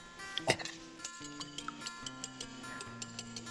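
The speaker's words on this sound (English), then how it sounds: "I have 3 eggs. And I'm going to whisk these." Three eggs whisked in a bowl, a steady run of light ticking clinks as the whisk strikes the bowl, close and fairly quiet over a low background hum.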